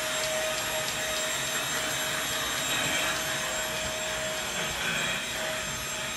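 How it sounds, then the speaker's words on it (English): A vacuum cleaner runs with a steady, loud motor whine and airy roar that holds constant throughout, with no voices over it. "There's like nothing in the vacuum."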